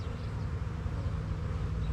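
Honey bees hum in a dense, continuous drone as they are installed into a queen-right starter colony, a loud, close swarm buzz with no voices over it.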